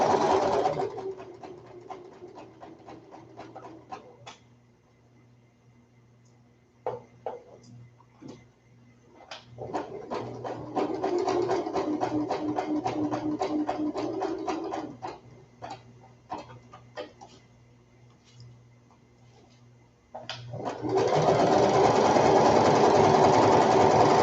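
A sewing machine stitches ruffles on baby bloomers in bursts, a fast rattling run, then slow spaced stitches and pauses, then a longer steady run, ending with a loud fast burst.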